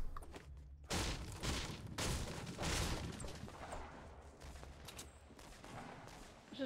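Grenade blasts in Fortnite, several heavy booming bursts at irregular intervals with a rumbling tail between them, moderately loud against a noisy battlefield background.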